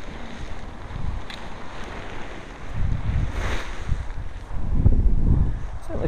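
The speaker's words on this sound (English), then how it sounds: "See what the wind's like right at the top here." Gusty wind rushing across an open hilltop path while preparing to paraglide, a steady broadband roar that swells louder in the second half with low buffeting thumps against the microphone.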